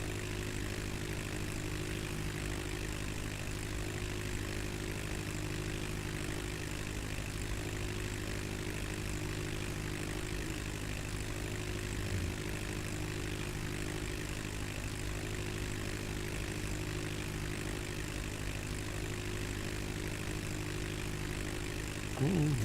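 In a video game flight simulator, a propeller airplane engine drones in flight, a constant steady hum with no change in pitch, with no speech heard.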